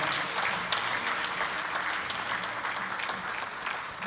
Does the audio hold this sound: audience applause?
yes